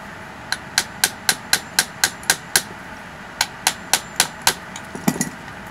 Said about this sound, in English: Here's a bigger hammer.